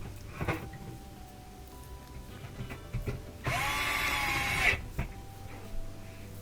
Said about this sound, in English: I'll put those 2 1/4-inch screws in to lock it in, to hold it